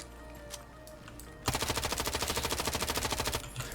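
Automatic gunfire in a single-player Tarkov-style shooter: after a quiet stretch with a couple of faint clicks, a long rapid burst of evenly spaced shots rings out, loud and close, for over two seconds.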